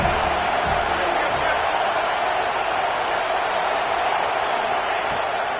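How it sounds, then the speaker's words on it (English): Stadium crowd in a college football video game, Iowa against USC, on a third down: a dense, steady roar of many voices filling the space at a constant high level, while a game commentator speaks over it. "Decibels rising as the crowd gets behind this defense on 3rd down."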